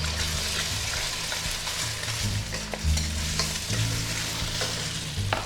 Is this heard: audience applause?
no